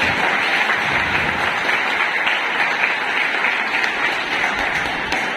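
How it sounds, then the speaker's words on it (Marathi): A crowd at a Marathi SSC guidance event claps loudly and continuously to welcome a respected guest, steady dense applause filling the whole moment without speech. "जोरदार टाळ्या वाजवून त्यांचं स्वागत।"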